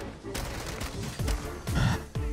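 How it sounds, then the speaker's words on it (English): M4 assault rifle fire in a shooter video game, several loud close bursts of rapid shots separated by short pauses, with some clipped sharp impacts in between. "Bro, this M4 is just so good."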